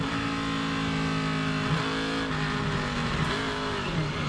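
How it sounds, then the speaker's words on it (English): Onboard a 2007 NASCAR Busch Series Geico Chevrolet race car, the engine roars steadily loud and close with the throttle held open and the wheels spinning, pitch wavering slightly as it slides. "You can hear the throttle. He gets in it, starts spinning the wheels."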